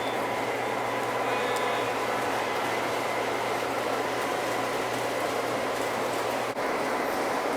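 Lionel model freight train rolling into a layout yard, a steady low motor hum and rolling rumble that continues evenly, close by.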